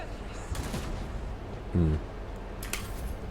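Gunfire from the video game Warhammer 40k Rogue Trader: a few short, sharp bursts of shots spaced across the moment, with a brief tonal effect between them over a low background of game ambience.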